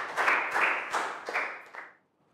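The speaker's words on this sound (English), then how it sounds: "Big round of applause for Lakau" A Year 3 class claps for a student in a classroom, a few short bursts of hand clapping from a small group that fade out into silence.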